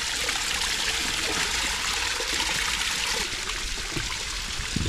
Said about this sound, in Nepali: अहिले चाहिँ म चाहिँ स्प्रिङ नेचुरल स्प्रिङ भएको ठाउँमा आइपुगेको छु।